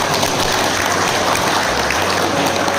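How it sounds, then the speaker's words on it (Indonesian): An audience applauds at the official inauguration of a multipurpose building for an education department, a dense and loud wash of clapping that holds steady throughout. "tepuk tangan"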